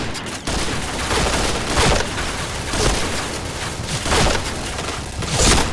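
An AUG rifle in the shooting game Point Blank fires loud, continuous rapid bursts of gunshots. The shots overlap into a dense, steady barrage with periodic sharper peaks and no pauses.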